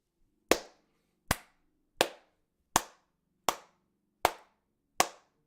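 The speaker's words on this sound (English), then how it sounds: "Round of applause." A single person claps seven times at an even, unhurried pace in a live film talk show studio, each clap sharp, close and isolated with quiet between.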